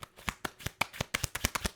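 Plastic tarot cards being shuffled by hand, a steady run of crisp, close riffling snaps about every fifth of a second, loud and alone with no talking.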